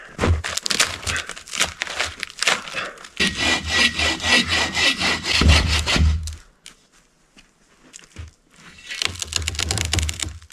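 A tree trunk being sawn through at the rear cut by hand with a saw, close and loud rhythmic rasping strokes in bursts, a brief pause, then more strokes.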